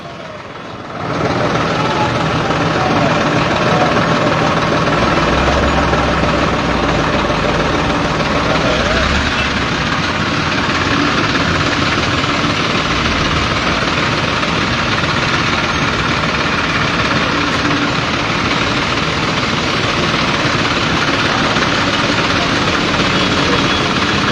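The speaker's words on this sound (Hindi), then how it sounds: "किसानों का जो ट्रैक्टर मार्च है वो चला हुआ है।" Tractor engines drone loud and continuous during a farmers' tractor march through Gharaunda, a dense, steady engine roar that fills the whole stretch with no break.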